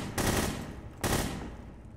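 Gunfire in the video game The Hidden: two loud, sustained automatic bursts, the first about three-quarters of a second long and the second starting a second later and fading out, with no voices.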